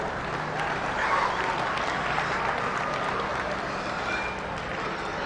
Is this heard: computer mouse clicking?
no